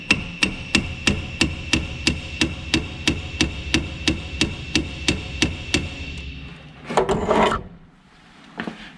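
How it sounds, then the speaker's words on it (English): Stuck shift linkage on a 1961 Auto Union DKW 1000 gets a quick series of evenly spaced taps, about seventeen sharp knocks in six seconds, followed by a short burst of rustling and clunking. "I'm just going to give that a little tap and see if I can get it into a gear"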